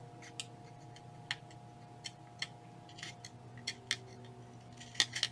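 Scissors trimming fabric scraps for a quilt block, heard as a series of about ten quiet, crisp snips at irregular intervals over a low steady background hum.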